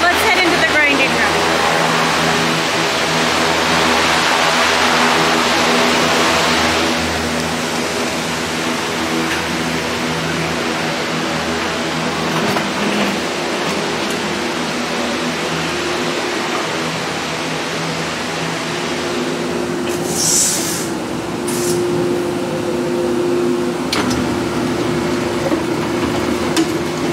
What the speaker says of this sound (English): So the grinding is done to homogenize the samples and also to remove any material that is not soil.